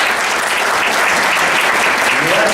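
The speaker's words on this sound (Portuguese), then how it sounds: "eu peço a todos aqui uma salva de palmas para esse cidadão" Audience applause fills a hall at a law congress in Londrina, a dense, steady clatter of many hands clapping at once, loud and sustained throughout with no break.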